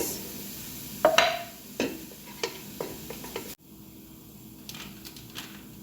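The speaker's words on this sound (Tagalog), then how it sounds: "Butter po ang kinagigisa ko dito." Onions for a Chinese dish hit melted butter in a pan, a faint sizzle broken by a few sharp spatula clinks and scrapes, then a quieter settled hiss.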